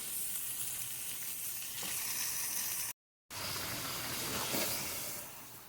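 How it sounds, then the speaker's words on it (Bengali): Meat sautéing in a pan for biryani with biryani masala, a loud steady sizzle and hiss close up, with stirring swells, a brief cut partway through, and no speech. "এবার মাংসটাকে ভালো করে কষে নিতে হবে"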